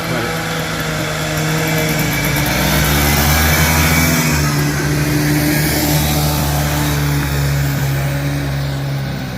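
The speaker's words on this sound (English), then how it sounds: "Wife's out trying out the new quad here before we tear her apart. Yes, she does run." A $250 used Polaris Trailboss quad that leaks gas idles and runs nearby outdoors, a continuous loud engine drone with a steady low hum and slight rises in revs throughout.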